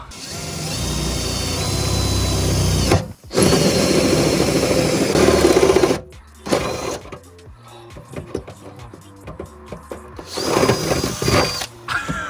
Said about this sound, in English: After a long battle with hole saws and grommets, we have got that.